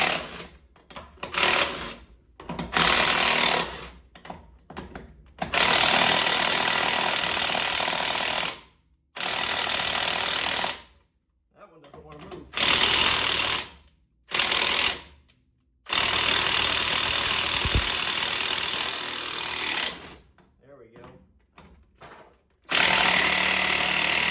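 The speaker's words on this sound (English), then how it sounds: "All right, taking the back tire off the side." A pneumatic impact wrench removes the lug nuts from the rear wheel of a 25-year-old NASCAR race car, making loud, close bursts of rattling hammering. The bursts are split by short pauses and repeat across the whole stretch.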